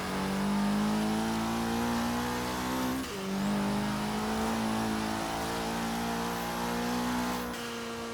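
A Ford Sierra Cosworth in Forza Horizon 3 accelerates hard, engine note climbing steadily through a gear, a quick shift near three seconds, then pulling again before another shift near the end, loud and close.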